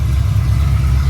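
A stroker Ford Mustang engine running with no thermostat fitted, a loud, steady low rumble idling close by without other sounds.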